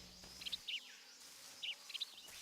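Birds chirp in a stealth section of the Metal Gear video game, with two small clusters of short, high tweets, faint and a little distant, over a quiet ambient background.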